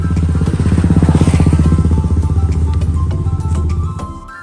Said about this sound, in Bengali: বাইকটা নতুন কিনেছি